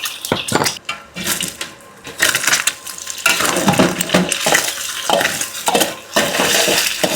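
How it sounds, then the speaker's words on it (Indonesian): Four eggs cooking in a pan for fried kway teow, stirred and scraped: loud clattering of a utensil against metal over a light sizzle, in uneven bursts with short pauses between strokes. "Aku masak telurnya dulu ya."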